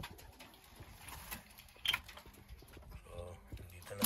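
Soft pigeon cooing amid scattered bird chatter and light rustling, with a brief sharper sound near the middle; moderately quiet, no talking.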